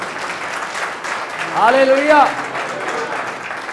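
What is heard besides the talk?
congregation applauding loudly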